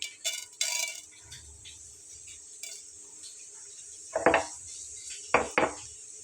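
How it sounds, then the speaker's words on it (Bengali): Half a teaspoon of whole cumin seeds added to hot oil in a frying pan, heard as a faint steady sizzle under clinks of metal utensils against the pan, with a few louder scraping clatters. "তেলটা গরম হয়ে গেলে এখন আমি এখানে দিয়ে নেব হাফ চা চামচ পরিমাণ জিরা"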